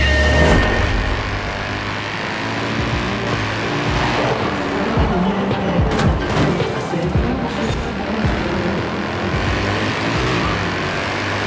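Engines of race cars in a Forza esports finals match roar continuously, a dense, loud mix of revving motors and passing cars with occasional crunching impacts, a voice faintly underneath.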